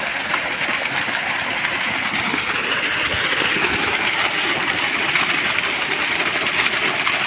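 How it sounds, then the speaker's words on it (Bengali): A 3-horsepower water pump motor with a 3-inch delivery pipe, mounted upside down, runs with a loud, steady rushing and rumbling drone of churning water that stays constant throughout. "এটা কি 3 হর্সের মোটর? 3 ইঞ্চি ডেলিভারি মোটর।"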